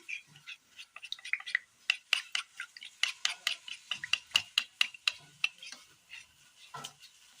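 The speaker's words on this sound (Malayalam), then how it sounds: "ഇത് നല്ലതുപോലെ ഒന്ന് മിക്സ് ചെയ്തെടുക്കാം." A spoon stirs ground tomato into a cooking mixture for a Kerala recipe, producing quick, irregular scraping and clicking strokes against the pan, close and fairly quiet, with no talk.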